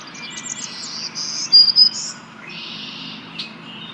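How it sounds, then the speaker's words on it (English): Black-throated green warbler song in an outdoor survey setting: a few thin, buzzy high phrases in the first two seconds, then a longer buzzy note, with faint background birds and a low constant hum. "And then we'll go with the black-throated"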